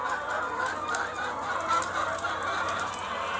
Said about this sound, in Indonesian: mencoba ternak ayam petelur juga silahkan